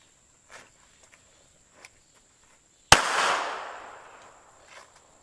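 A Tanfoglio GT-27 pistol fires one sharp, loud shot outdoors. The crack decays into a long echo, preceded by a few faint ticks and shuffles.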